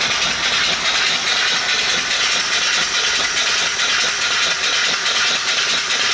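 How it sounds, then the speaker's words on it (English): A Clint steam engine runs off its boiler with a steady, loud, continuous hiss and mechanical rattle throughout, with no talking over it. "even with the engine running."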